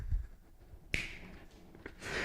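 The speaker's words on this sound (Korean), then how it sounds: "그 박수 소리 여기 들어갔어." One sharp, close hand clap cracks out in a quiet classroom, followed by a couple of faint taps against low background noise.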